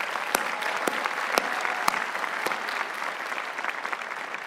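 Sustained applause from a university graduation ceremony audience, a dense even wash of clapping with a few sharp close claps early on, holding steady throughout.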